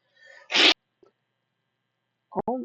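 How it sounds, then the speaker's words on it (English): A single sharp, loud sneeze preceded by a drawn-in breath, followed by silence and a brief vocal reaction. "I have to sneeze again."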